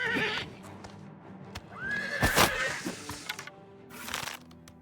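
Horse in Oblivion Remastered gives one loud, clear whinny in the middle, amid hoof clops, thuds and combat noises before and after.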